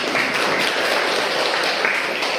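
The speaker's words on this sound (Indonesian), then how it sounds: "kita beri tepuk tangan" A classroom of students claps together, a dense, even burst of applause close by and brief, with no talking over it.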